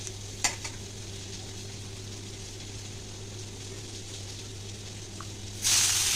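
Chopped onions sizzle steadily in a hot pan after fish has been fried, with a constant hiss and a sudden louder burst of frying near the end.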